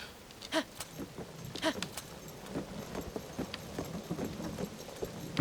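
Horse hooves clip-clop in The Legend of Zelda: Tears of the Kingdom, a steady galloping patter of in-game footfalls under faint background game sound.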